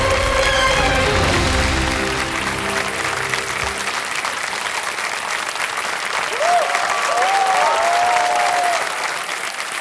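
An audience on the Kaun Banega Crorepati set breaks into loud, sustained applause close by, and the clapping carries on for the whole stretch with a few faint whistles or voices mixed in.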